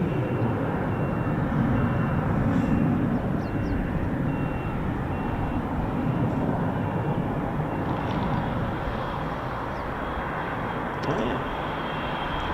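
A steady, distant jet engine rumble continues throughout at an RAF quick reaction alert station where Eurofighter Typhoon FGR4 jets operate. A voice makes a brief remark partway through.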